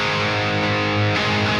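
A high-gain electric guitar played through a British Plexi-style amp simulation with jumped channels rings out as a dense, distorted sustained chord, loud and saturated, with no voice over it.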